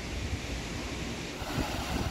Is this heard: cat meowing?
no